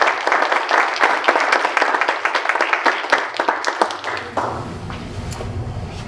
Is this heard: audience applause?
yes